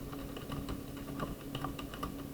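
Computer keys clatter in a quick, steady run of typing, close to the microphone and alone, over a constant hum of background noise.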